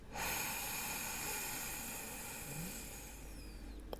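A long, steady breath drawn in through a narrowed throat, a soft airy hiss lasting several seconds, close and fairly quiet.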